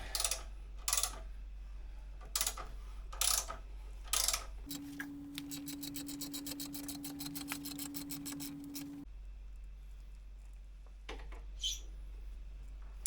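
A car lift raises a vehicle with a steady mechanical hum and whine for several seconds, bracketed by clicks and light taps before and after, quiet overall.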